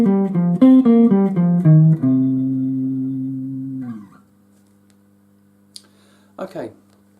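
A guitar runs down a pentatonic scale from the thin string to the lower strings in about six quick plucked notes, then lets one note ring and fade, followed by near-silence and a faint click.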